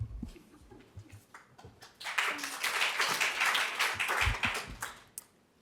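An audience claps after a talk on urban regeneration, starting with a few scattered claps, then a dense burst of applause for about three seconds before fading to a few last claps.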